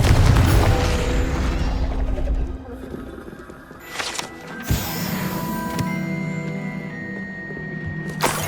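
A Confringo blasting spell goes off in Hogwarts Legacy, a loud booming burst with a crackling tail at the start, then quieter game ambience with a softer thump and chimes.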